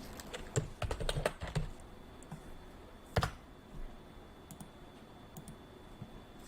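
Someone types a property address into a search bar on a computer keyboard: quick bursts of close key clicks, then a pause, another sharp cluster and scattered light taps, with no voices.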